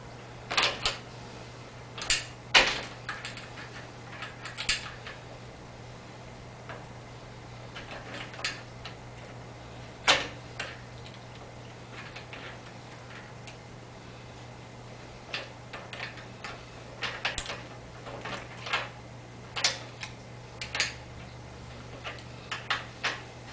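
A bolt being worked loose from a Rocknroller cart gives faint, scattered metallic clicks and ticks, some in quick pairs, over a quiet background hum.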